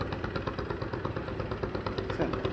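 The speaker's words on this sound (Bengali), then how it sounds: "যার একটা ট্রলার যাইতেছে" A trawler boat engine chugging steadily nearby on the Buriganga River, a rhythmic low throbbing drone that stays constant throughout with no voices.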